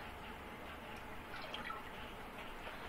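About 1.25 litres of water poured into a pot to make sugar syrup for Bengali rasgulla, a soft, steady splashing and trickling flow that stays quiet and even throughout, with no talking.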